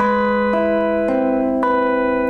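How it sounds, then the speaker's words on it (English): Single guitar strings plucked one at a time with the thumb in an arpeggiated intro pattern, four clear notes at an even pace, each ringing into the next, close and alone. "You can just use your thumb and pluck them like this"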